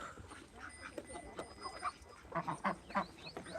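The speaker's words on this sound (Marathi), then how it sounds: "आपल्याकडे बदक पण आहेत मित्रांनो हे पहा बदक" Ducks on a village farm, kept alongside free-range chickens, give faint, scattered quacks that cluster into a few clearer calls near the end over a soft background hiss.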